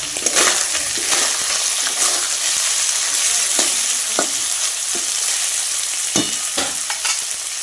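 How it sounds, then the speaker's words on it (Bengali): Small fish fry in hot oil, a loud, continuous close sizzle with sharp spattering pops and occasional scraping clicks, no talking. "দেখো এগুলো ভেজেছি একদম ছোটো ছোটো, আর এখানে আমি ভাজছি।"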